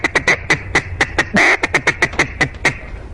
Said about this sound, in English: give them a couple soft quacks in the feed call